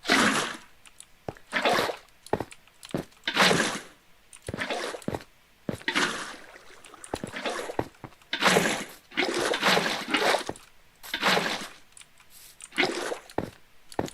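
Water is placed and flows onto lime concrete in Minecraft, heard as a long series of repeated splashing, squishing bursts at a fairly steady rhythm, close and loud.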